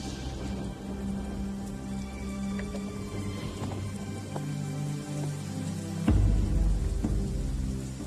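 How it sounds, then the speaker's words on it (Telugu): Steady rain falls and patters on surfaces during an outdoor film scene, with a low rumbling thud partway through. "ఏంట్రా వర్షంలో తెలుస్తున్నావు?"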